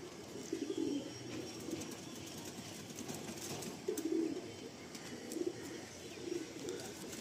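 Several low, rolling coos come from an old male Madrasi pigeon in Kolkata, repeating at intervals over a faint, noisy background, fairly close but soft.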